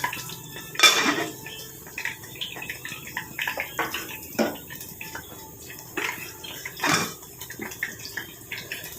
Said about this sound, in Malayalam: നമുക്കതൊന്ന് മൂടി വെച്ച് വെക്കാം